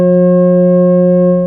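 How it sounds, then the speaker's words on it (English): Pure sustained tones of F sharp and its perfect fifth C sharp sounding together, a steady loud electronic chord held without change before fading slightly at the end. "They are F sharp and its perfect harmonic fifth of C sharp."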